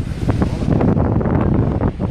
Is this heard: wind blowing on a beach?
yes